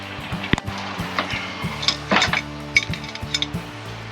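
A rough, worn old boat anchor chain clinks and rattles against the deck in a series of irregular metallic knocks and clanks, close and fairly loud, with no talking.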